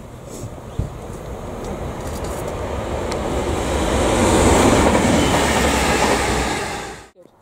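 A train passes through Princes Risborough railway station on the Chiltern line, a steady rolling rumble and rail noise that swells to a peak midway, then cuts off abruptly; no talking.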